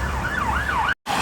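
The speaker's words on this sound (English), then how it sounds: "That's the sound of the police." Police siren wailing in a rising and falling sweep, fairly close and clear, cut by a brief gap before the tone resumes; no talking.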